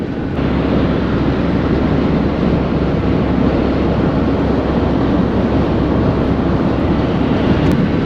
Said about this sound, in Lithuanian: Tuoj patikrysim vėjo ošimą